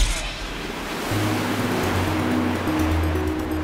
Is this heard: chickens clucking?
no